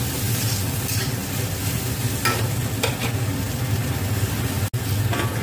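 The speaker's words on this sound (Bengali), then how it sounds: "এবার এগুলোকে নাড়বো।" Snake gourd with salt and turmeric being stirred in a frying pan, a steady close sizzle with soft scraping strokes and a brief sharp knock near the end.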